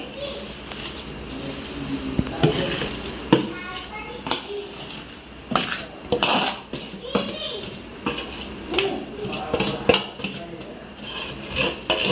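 Homemade raw mango pickle being stirred with oil in a large batch, giving repeated wet scraping and rubbing strokes at close range, with a voice and other talk over it.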